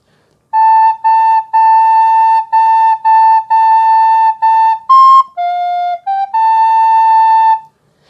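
Flute, likely a recorder-type instrument, playing a short Christmas melody in a music lesson: clean sustained notes in a steady stepwise phrase with brief gaps, loud and close, with no talking.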